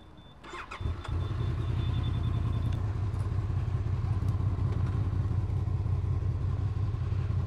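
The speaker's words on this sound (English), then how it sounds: "Confirm that he is riding a Ducati" A Ducati motorcycle engine fires up after a brief start and settles into a steady, loud, close running rumble that continues without talk.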